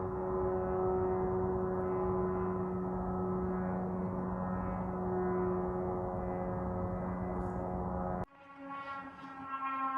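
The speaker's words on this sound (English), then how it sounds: "One more drone." Drone flying overhead in the sky, recorded through an open kitchen window: a steady, loud droning hum with sustained tonal harmonics for about eight seconds, then cutting off abruptly into a quieter, shifting engine tone.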